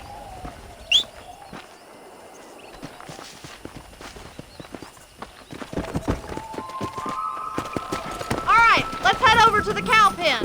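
Horse hooves clip-clopping at a brisk pace while herding cattle in the Western game Red Dead Redemption, with bird calls and whistling tones over a rising bed of music and game sounds; a voice briefly calls out.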